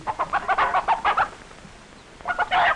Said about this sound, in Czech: Ta zoufale se bránící slepice, to je možná pravá Leghornka.